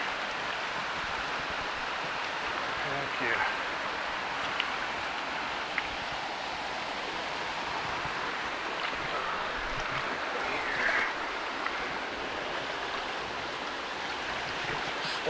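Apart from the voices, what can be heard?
brook stream flowing while fly fishing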